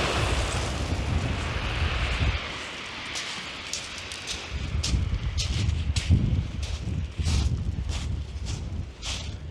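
Southwesterly wind buffets the microphone on the sea shore at Winchelsea near Rye, a steady roar with gusty low rumbles and surf hiss throughout, no voices.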